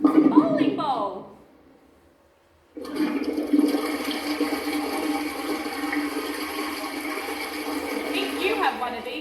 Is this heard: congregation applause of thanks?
no